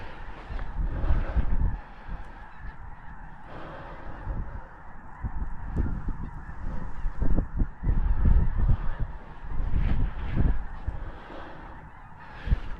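Snow geese honk constantly during a blizzard hunt, a loud, overlapping chorus of calls rising and falling over gusting wind noise.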